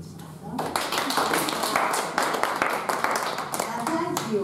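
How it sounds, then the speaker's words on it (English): A room of people at a symposium workshop clap their hands together in a dense, lively burst of close applause that keeps going with scattered voices underneath. "And now we clap our hands to each other."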